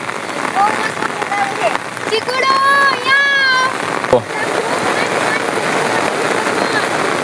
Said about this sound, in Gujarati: કેવો સરસ વરસાદ આવ્યો છે.